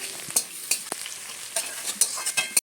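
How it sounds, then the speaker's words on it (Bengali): Chopped onions and crushed garlic fry in a pan for a pumpkin curry, with a constant sizzle broken by irregular scraping clicks as a spatula stirs them, close and without speech. "এরপর দিয়ে দেব পেঁয়াজ কুচি, দিয়ে ভালো করে ভেজে নেব।"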